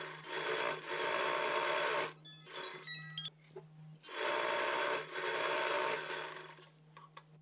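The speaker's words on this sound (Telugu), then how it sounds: "అలాగే ఇటువైపు షేప్ బెల్ట్ని కూడా సేమ్ అదే రకంగా స్టిచ్చింగ్ చేసుకోవాలి." A sewing machine stitches a shaped belt on a blouse front in steady whirring bursts, pausing between runs with a few quiet clicks and fabric handling sounds.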